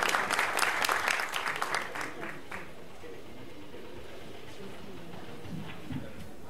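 An audience at a public event applauds to welcome mayor Ömer Arısoy. The clapping is fairly loud for about two seconds, then fades into a low murmur of room noise.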